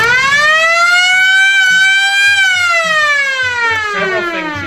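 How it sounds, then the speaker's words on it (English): A loud electronic pinball machine alarm siren wails steadily with a rising and falling pitch, continuous and piercing, close by with no talk. "That's one hell of a siren."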